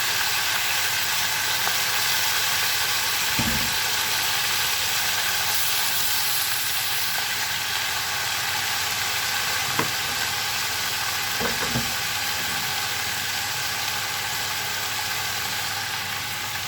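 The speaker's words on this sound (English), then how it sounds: "right in the pot goes my greens and rutabagas" Turnip greens and rutabagas go into a pot and cook with a constant hissing sizzle, broken by a few soft thumps, close and steady with no voices.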